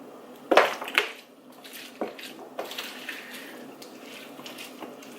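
Shrimp ceviche is stirred in a bowl, giving wet, squelchy sloshing with a few sharper clinks of a utensil against the bowl, close and moderately loud.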